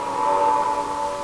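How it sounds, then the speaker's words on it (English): A train sounds in a train movie playing nearby, a sustained horn-like tone holding steady and fairly loud for a brief moment. "See, there's a train."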